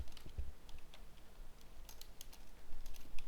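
Light, irregular keystrokes patter on a computer keyboard at low level, with a brief low thump near the start and quiet ticking taps running throughout.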